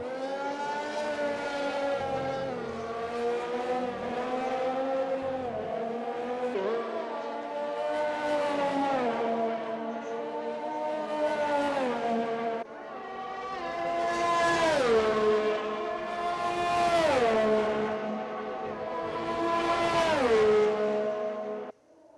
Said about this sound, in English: Breaking into the hairpin. Oh, too deep. Too deep for the Renault